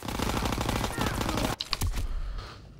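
Rapid automatic fire from a PPSh submachine gun in Call of Duty: WW2 sounds as a dense, loud burst for over a second, then a few sharp separate shots ring out before fading.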